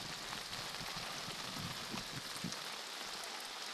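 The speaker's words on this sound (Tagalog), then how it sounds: "Kung maririnig ninyo ang lagasak ng ulan sa tolda natin" Heavy rain drums steadily on a tent in a downpour, a dense, continuous hiss and patter close overhead with no talking.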